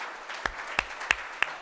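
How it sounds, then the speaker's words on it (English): At a leadership forum, a few isolated hand claps ring out, four sharp, evenly spaced claps over a quiet room rather than full applause. "So let's give her a round of applause."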